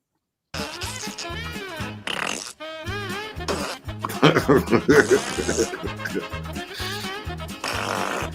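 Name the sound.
fart sound effects added to a video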